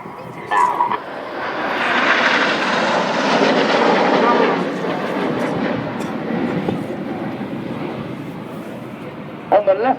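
Red Arrows Hawk jets perform a flying display at an airshow at Waddington, and a loud jet roar swells and fades away with commentary over it.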